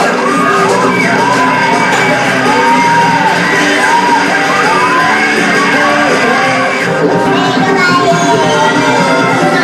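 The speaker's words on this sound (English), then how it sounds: "I can hear myself over the roar of the crowd." A quiz show studio crowd roars and cheers continuously, with shouts and whoops layered over loud, dense applause-like crowd noise.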